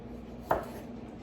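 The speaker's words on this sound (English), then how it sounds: "one more little slice" A single knife slice through vegetables being cut for pozole (onion, cabbage, radishes), one short crisp cut close by, with quiet room tone before and after.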